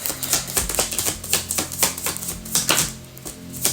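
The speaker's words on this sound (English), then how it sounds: "This is the last shuffle for the Five of Cups." Tarot cards are shuffled in quick riffling bursts of crisp, rapid clicks and slaps up close, with no talking.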